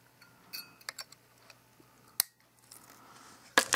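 Coil wire leads on a Rampage RDA clone are clipped in a quiet room, a few sharp, small snips and ticks spaced apart, with a louder cluster of clicks at the end.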